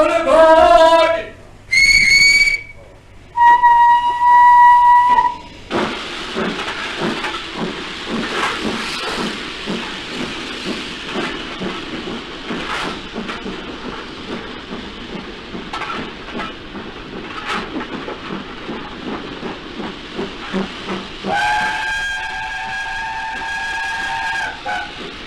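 Steam locomotive whistle blasting in several short and long calls, then a long stretch of rhythmic chuffing and hissing steam as the train gets under way, ending with another loud whistle.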